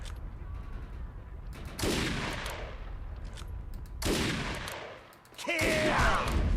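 Bursts of gunfire from a powered-up gun in the video game Defiance, two loud sustained volleys a few seconds apart with a third starting near the end, over steady game background noise.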